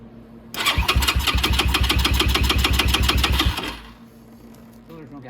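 A Venom motorcycle engine, run on the choke, cranks and catches in a loud rapid pulsing roar for about three seconds before it cuts out, leaving a faint murmur.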